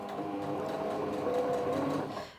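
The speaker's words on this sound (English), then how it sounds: "I've now finished sewing along both seams." Sewing machine stitching French seams on a tote bag, a continuous close droning whir with a low tonal hum lasting a couple of seconds before cutting off.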